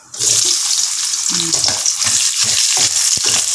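Small onions hit hot oil in a pan for a stir-fried long bean dish, a loud steady sizzle with occasional stirring scrapes and knocks from a spoon.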